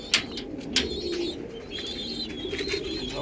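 Pigeons let out to sun themselves coo softly and repeatedly nearby, with a few sharp wing claps and flutters as they take off, and no talking.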